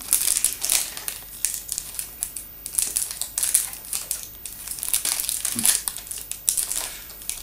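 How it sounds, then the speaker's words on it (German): Crinkling plastic film being peeled and unwrapped from a new Kindle Paperwhite e-reader, close and fairly loud, with irregular bursts of crackling and rustling throughout and no talking. "der ist noch in einer Folie und die machen wir auch mal auf"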